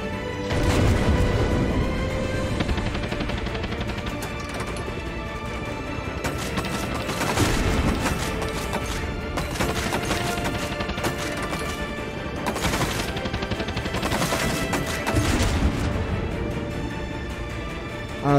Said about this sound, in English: Trying to shoot me, but they can't really. Who's trying to shoot me?